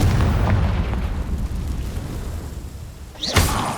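A Confringo spell explosion in Hogwarts Legacy: a rumbling background gives way to a sudden sharp blast near the end, bright and brief.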